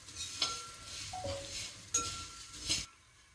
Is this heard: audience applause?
no